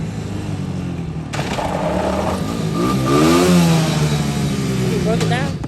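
A 125cc four-wheeler ATV engine revs and rides past close by, a loud steady buzz rising in pitch and then falling away, with people talking over it.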